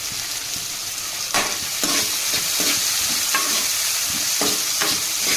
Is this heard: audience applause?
no